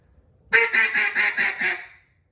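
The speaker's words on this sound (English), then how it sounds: "So it's going to be 5 to 6 quacks." A duck call blown in a fast run of six quacks, loud and close, each one clipped and evenly spaced, with nothing else around it.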